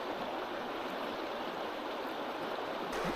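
Cold Scottish mountain stream in the Cairngorms in December, a steady broadband rush of flowing water, close and unbroken, with no voices.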